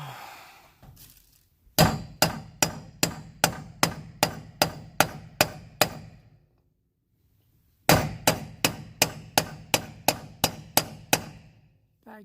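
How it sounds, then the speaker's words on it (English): Hammer blows drive new bearings into an old Miller welder generator on a makeshift backyard press, two runs of about ten evenly spaced loud metallic clangs separated by a brief pause. "Backyard bearing press."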